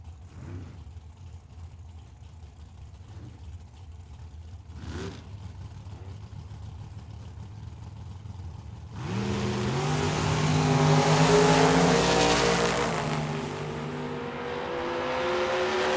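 A drag racing car launches at Tucson Dragway: after a quiet stretch of low idle and faint background sounds, a loud engine roar suddenly erupts and climbs in pitch, then stays loud and sustained to the end.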